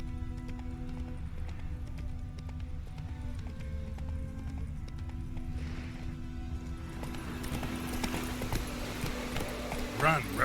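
Geralt's horse Roach galloping in The Witcher 3 video game, a steady rhythmic clip-clop of hooves at moderate volume throughout, joined by rustling and louder effects near the end.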